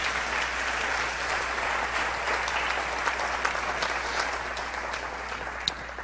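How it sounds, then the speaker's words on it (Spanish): A church congregation breaks into steady, dense applause after a sermon on salvation by faith, a full roomful of hands clapping evenly for the whole stretch, with no voices over it. "Puedes aplaudir a Jesús."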